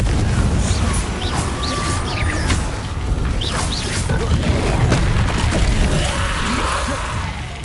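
Confringo blasting spells exploding in Hogwarts Legacy, a steady run of booming, crackling blasts with chirping magical effects layered over dense, loud game noise throughout.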